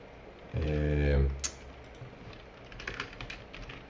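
Typing a git push command on a computer keyboard under Windows: a short run of light, quiet key clicks that comes after a brief tonal sound.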